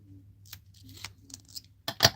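A few short crisp snips of scissors cutting foam tape near the end, preceded by quiet handling and faint rustling, with a low steady hum underneath.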